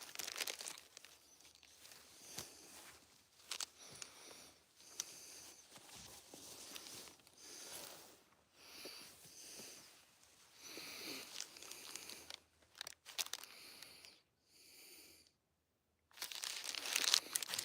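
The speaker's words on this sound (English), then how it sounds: "It's a piece of paper." Close, crisp crinkling of paper being crumpled and handled in bursts, with brief quiet gaps between the rustles.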